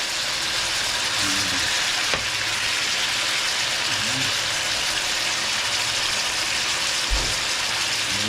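Adobong tuyo, dried fish cooked with chili, sizzles and crackles in a pan with a steady, dense frying hiss, close and fairly loud, with a few faint knocks and soft background voices.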